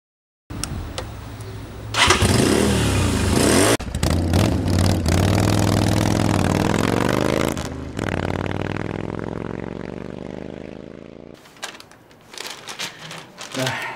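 A motorcycle engine starts up close by at a family home in the morning, then revs loudly with a rising whine and some mechanical clatter before cutting off. Brief voices can be heard around it.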